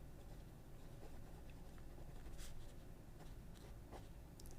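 Pelikan Souverain fountain pen with an 18 karat medium nib writing on paper, a faint, soft continuous scratching with small strokes, close and quiet against low background hum.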